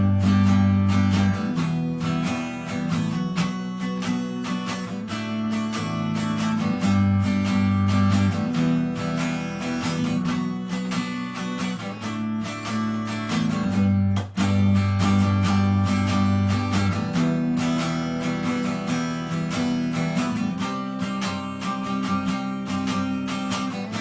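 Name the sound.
rhythm guitar playing the verse of a song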